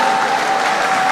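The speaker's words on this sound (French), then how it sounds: "Est-ce qu'on peut bien applaudir pour la Grande Orientale?" A short burst of audience applause at a formal gathering, loud and dense, the hall full of clapping hands with no gaps.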